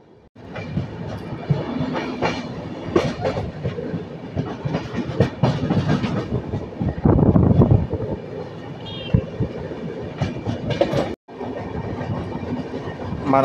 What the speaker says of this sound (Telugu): మనకు వచ్చేసరికి ఫ్reight ట్రైన్తో ప్యారలల్ రన్ అవుతుంది అండ్ ఫ్reight ట్రైన్ మనని క్రాస్ చేసుకుంటూ వెళ్ళిపోయింది